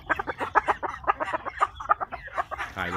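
Chickens cluck in a rapid, uneven string of short calls close by, one overlapping another, ending in a drawn-out squawk.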